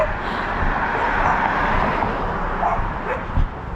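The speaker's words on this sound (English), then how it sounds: "I have upset this whole neighborhood of dogs because I'm talking" Dogs across a neighborhood in Lewiston, Maine bark and yip at a distance, scattered calls overlapping through steady outdoor background noise, with one sharper bark standing out near the end.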